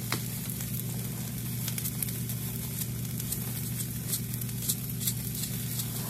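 Steady sizzling of a tomato frying in a hot pan, a continuous close crackle with small pops over a low steady hum.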